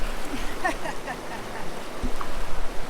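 Low, steady rush of river water around a trailhead near Greer, Arizona, as feet soak in the stream; a few faint clicks and splashes rise over the continuous wash.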